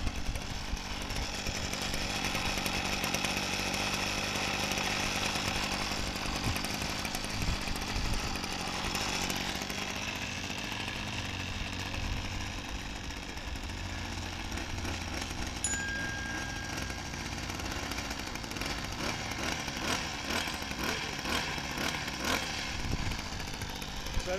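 Ryobi 25.4cc two-stroke curved-shaft line trimmer on its first start, running at a steady buzzing drone for the full stretch at moderate distance.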